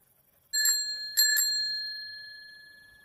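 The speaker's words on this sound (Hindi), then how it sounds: "अचानक उसकी साइकिल की घंटी अपने आप बज उठी।" A bicycle bell rings out clearly and close, one ring followed by a quick double ring, its metallic tone lingering and slowly fading in an otherwise silent night.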